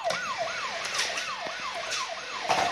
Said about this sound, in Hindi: और इसका साइरन देख सकते हैं आप, जो साइरन है